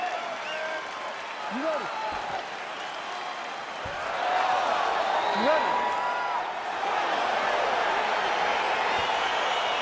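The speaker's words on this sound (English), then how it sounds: "crowd getting excited as this fight gets underway" Arena crowd noise building and cheering as a UFC bout begins in EA Sports UFC 4, a broad steady roar that swells louder midway, with a voice calling out over it.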